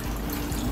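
Water poured off a pot of chicken being cooked for Ethiopian doro wot, a short splashing gush into a sink at close range with no talk.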